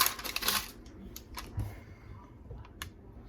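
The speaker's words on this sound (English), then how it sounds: "take a pair of scissors and trim off around the edge of this parchment paper" Scissors snip through parchment paper in a few crisp cuts, a rustling burst followed by sparse sharp clicks, close and fairly quiet.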